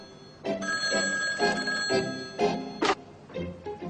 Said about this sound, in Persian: با تلفن جواب نده لیوین.